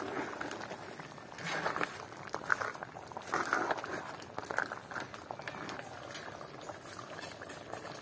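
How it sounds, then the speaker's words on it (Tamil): Crab curry bubbles in a pot over a village cooking fire in Jaffna, a steady close simmer of popping bubbles running throughout with no talk. "நண்டு குழம்பு கொதிக்கிற வடிய பார்த்தீங்களோ"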